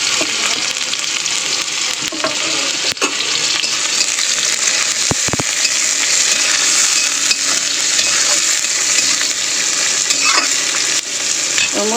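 Chopped onion frying in hot oil in a wok for a potato curry gives a steady, loud sizzle throughout, with a few clinks of stirring and no talk.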